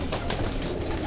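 Paired breeding pigeons coo softly in a loft amid a steady background hiss, a brief low murmur with no voices.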